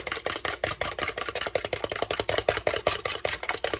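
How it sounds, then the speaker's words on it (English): An egg whisked with a fork in a bowl for banana oat pancakes, a fast, steady run of close, crisp tapping strokes that keeps an even rhythm throughout, with no talking. "Take a fork, whisk it."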